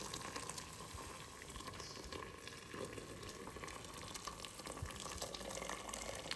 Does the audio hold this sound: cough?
no